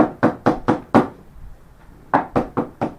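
Knocking on a door during a summer retreat sermon: a quick run of four sharp knocks, a brief pause, then four more, loud and close with no talk over them.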